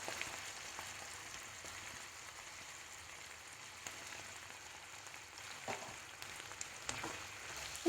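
Soya mince frying in a hot pan for a cabbage roll filling, a soft, steady sizzle with faint crackles and a few light stirring clicks, fairly quiet throughout.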